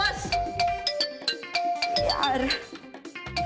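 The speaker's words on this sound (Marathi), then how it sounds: "अगं ते फोन वाजला ना म्हणून मी उचलायला गेले" A mobile phone ringtone plays in a domestic scene, a repeating melodic electronic tone pattern with regular pulses, loud and close, while people talk over it.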